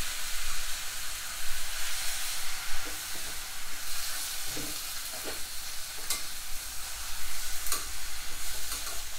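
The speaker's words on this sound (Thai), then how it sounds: "จริงๆแล้วผัดผักพวกนี้ต้องใช้ เตาที่ไฟแรงนะครับ" Hong Kong choy sum stir-fries with crispy pork belly and a splash of water on a weak home stove, giving a loud, continuous sizzle with a few scraping stirs and no talk.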